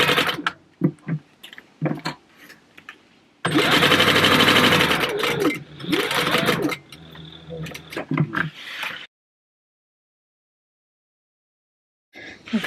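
A sewing machine base-stitches black fabric with black thread in bursts of rapid, loud mechanical whirring, stopping and starting, then falling silent near the end.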